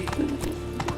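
Hooves of Roach, Geralt's horse in The Witcher 3: Wild Hunt, clip-clop in a steady rhythm of several close, clear strikes with a brief snort or whinny over game ambience.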